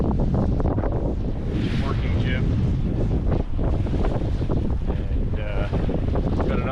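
Steady wind roars across the microphone while a sailboat tacks upwind on a breezy day, with broadband rushing noise and water wash throughout and no clear pauses.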